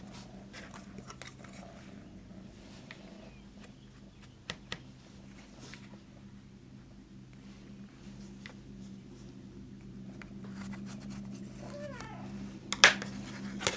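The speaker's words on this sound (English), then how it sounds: "Don't mind my cat, she is not attention deprived and she's not supposed to be in here." A pet cat in a home sewing room gives a few faint, short meows, mostly near the end, over quiet room noise and occasional soft clicks and taps.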